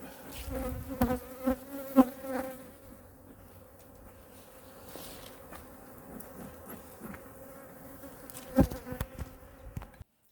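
Honey bee colony buzzing during a winter hive inspection, a close, fairly quiet drone with bees passing near and a few louder bumps or knocks.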